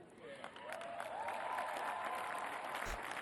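Thin, sparse applause from a small audience at Kamala Harris's concession speech, a steady patter of clapping that fills the clip at moderate level with a faint voice underneath.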